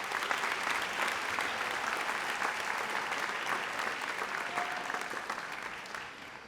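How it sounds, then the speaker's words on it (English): An audience at a 2022 school graduation ceremony claps in steady, dense applause that holds for several seconds and then begins to fade. "all of you deserve a round of applause"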